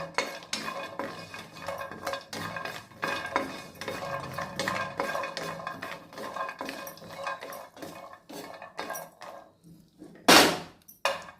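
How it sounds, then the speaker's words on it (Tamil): Dry roasting ingredients for healthy laddu, including cashews and walnuts, in a pan, with a steady run of clinking, scraping stirs and light metallic taps, close and moderately loud, ending in a sharper clatter. "இதையும் ஒரு ரெண்டு நிமிஷத்துக்கு நல்லா வறுத்து எடுத்துக்கலாம்"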